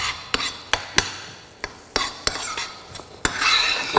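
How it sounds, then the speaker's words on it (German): A spoon stirs baking cocoa with cayenne and sugar into a pan of breadcrumbs for a flourless chocolate cake, giving close, repeated scraping clicks against the pan in an irregular rhythm, with a brief soft sizzle near the end. "Wenn man das Ganze jetzt rührt"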